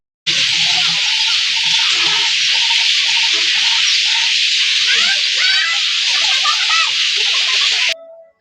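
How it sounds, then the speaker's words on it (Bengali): Dense chorus of birds chirping and twittering at a village-style restaurant, a loud steady wash of bird calls throughout with no voices over it. "পাখির কিচিরমিচির গুলোকে আপনারা শুনতে চান?"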